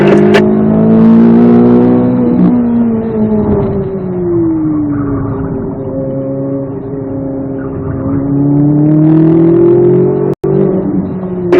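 A Corvette Z06 engine pulls hard through a race-track lap, a loud, close, sustained drone that dips through a corner and then rises steadily under throttle, with a brief dropout near the end.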